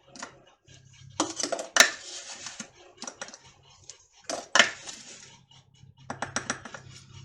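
Cups of sugar tip into a pan of fresh raspberries in a few separate pours, each one a quick burst of gritty rustling and light clinks of the cup against the pan, close and fairly quiet with short pauses between.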